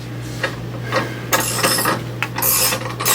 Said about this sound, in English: Now let the jack down, move it up to the front of the motor.